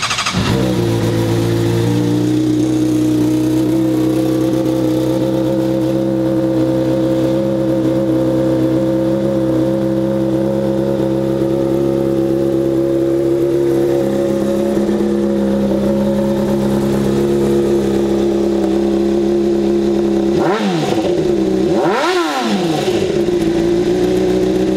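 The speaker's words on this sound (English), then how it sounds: "Let's go ahead and fire it up and listen how it sounds." A 2018 Honda CBR600RR motorcycle engine starts and settles into a steady, loud idle close by, then near the end gives two sharp revs that climb and drop back.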